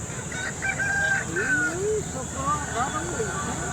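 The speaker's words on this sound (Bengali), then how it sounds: "রমেশ সুন্দর মুরগি বাইশশো টাকা দাম চাচ্ছে" A rooster crows at a busy rural chicken market, and its drawn-out calls rise above the crowd noise. People talk around it throughout.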